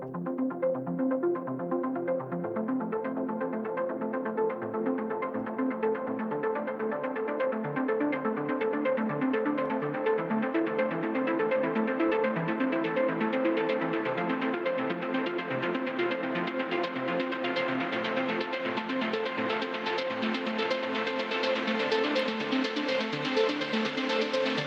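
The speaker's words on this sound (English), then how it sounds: "And then I have this ARP, which comes in only for a small section of the track" A synth arpeggio in an Anjunadeep-style electronic track loops in a continuous, pulsing pattern for over twenty seconds, steady and moderately loud, its tone gradually brightening, with no voices.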